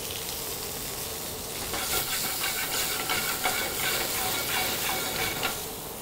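Large shrimp seasoned with salt and pepper sizzle in a hot pan, a loud, dense, continuous hiss of frying with crackling spits, close by and steady throughout.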